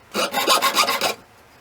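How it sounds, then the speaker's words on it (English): Jeweler's saw rasping through metal in short little strokes, about six quick, even back-and-forth cuts, close and crisp, with no talking. "if you saw short little strokes"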